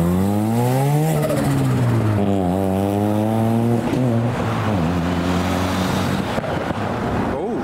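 A Mazda RX-7 with a missing headlight cover revs loudly and close by. Its engine tone sweeps up and down in several rising and falling surges over steady background noise, and voices are faintly mixed in.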